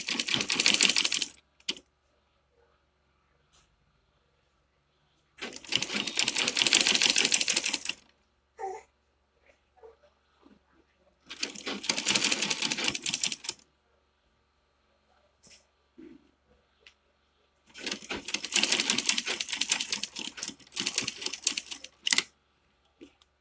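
A sewing machine stitches a fabric face cap, running in three long bursts of rapid, steady mechanical clatter separated by pauses with faint handling sounds between them.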